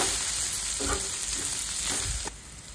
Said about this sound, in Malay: goreng sehingga cili tu layu sedikit